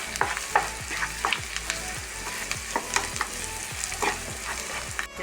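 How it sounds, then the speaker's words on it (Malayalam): Masala for anchovy fry with chilli flakes and garam masala sizzling in a pan, a steady close frying hiss broken by rhythmic scraping strokes of a spoon stirring, with no talk. "ഒരു സ്പൂൺ ഗരം മസാല നന്നായി മിക്സ് ചെയ്ത് കൊടുക്കാം"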